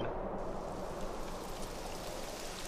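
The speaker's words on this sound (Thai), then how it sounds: "It would have to go and start raining, wouldn't it?" Steady rain pours down in the video game Dragon Quest XI, a dense, even hiss of rainfall that runs without a break, heard alone at moderate level.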